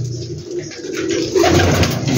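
Golden pigeons kept on a large rooftop loft in Gujranwala, a close flock giving continuous low, throaty coos that swell slightly toward the end.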